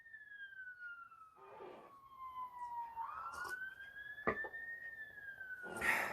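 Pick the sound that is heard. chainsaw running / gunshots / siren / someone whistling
siren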